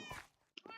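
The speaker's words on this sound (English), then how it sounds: "I have my cats, my 3 cats here." Pet cats meowing in a video game, two brief meows with a short gap between them, faint and close, with no other sounds.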